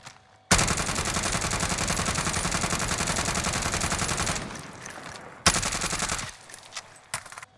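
Suppressed automatic gunfire with an Agency Suppressor in the Warzone video game: a long, dense, rapid burst of shots, a short pause, then a second burst, trailing into a few scattered single shots.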